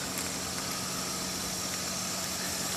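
A raised custom car's engine idles steadily, a continuous low hum with faint mechanical vibration and no talking.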